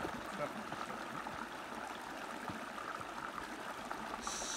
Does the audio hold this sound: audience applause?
no